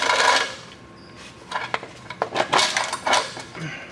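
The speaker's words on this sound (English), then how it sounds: "take our transmission chain and loop it around the top of our transmission" A metal transmission chain being fed and looped around the top of a transmission during an LS swap, giving a few close clinks and rattles of chain links against metal.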